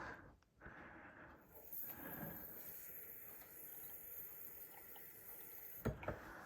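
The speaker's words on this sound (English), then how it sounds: "fill the rest up with water" Steady rushing hiss of tap water pouring into a Vax Steam Fresh Combi Classic steam mop's tank, continuous and fairly quiet, with a couple of clunks near the end.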